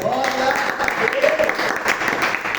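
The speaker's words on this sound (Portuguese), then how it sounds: "Vamos aplaudir Jesus?" A church congregation applauds for Jesus during a service, the clapping mixed with voices calling out and singing over it at moderate volume.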